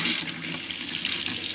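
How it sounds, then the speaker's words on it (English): Three caravan taps turned fully open in the centre position, flushing fresh water through the system to clear out cleaning solution. It makes a steady, close hiss of water streaming into a sink, unbroken and alone. "I'm going to open all three taps in the center position."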